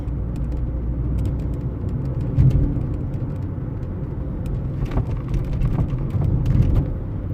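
A Mercedes W203 C-Class with a gear-engagement fault rolls over a bumpy road, giving a steady low engine and road rumble from inside the cabin with a few sharper knocks and thumps as it hits the bumps.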